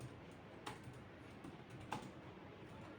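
Faint keystrokes on a computer keyboard while a command is typed, a few soft sparse clicks spread over a few seconds against a quiet room background.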